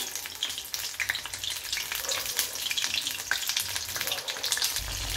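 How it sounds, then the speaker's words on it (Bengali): Paneer pieces fry gently in hot oil over a low flame, a steady soft sizzle with faint crackles running throughout, close and without talk. "গ্যাসটা সিম করে আমি আস্তে আস্তে এভাবে ভেজে নিচ্ছি।"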